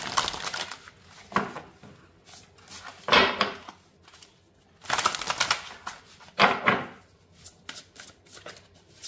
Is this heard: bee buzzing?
no